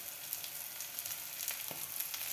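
Onion, curry leaves and coriander fry in a pan with a soft, continuous sizzle and a few faint crackles, fairly quiet and close, without speech.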